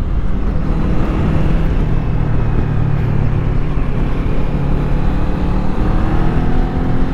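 A motorcycle engine with the throttle gently eased on, a loud, close, steady droning hum that rises slightly as it accelerates, with no speech.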